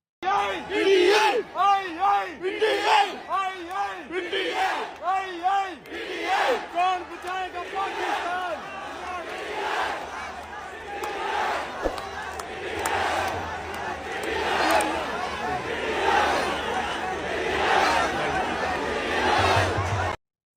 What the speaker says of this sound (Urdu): یہ عوام جوش ولولے اور نعروں کے ساتھ کرکٹ کے میچز میں بھی عمران خان کے نعرے لگاتے ہوئے نظر آتی ہے